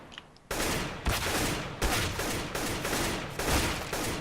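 Gunfire from the Counter-Strike: Global Offensive video game, a loud rapid burst of repeated shots with sharp periodic cracks lasting several seconds, heard without talk.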